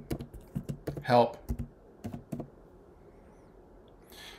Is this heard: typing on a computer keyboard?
yes